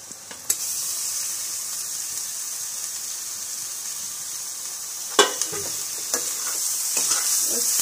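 Grated mooli bhuji sizzling with onion in a pan, a steady dense hiss of frying close up, with occasional clacks of a spoon stirring and scraping, no talking.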